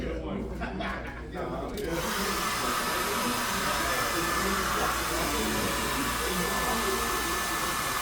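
A hair dryer blows hair dry during a Texas state board cosmetology procedure, switching on after a couple of seconds of handling and then roaring steadily and loudly, close by, with faint talk at the start.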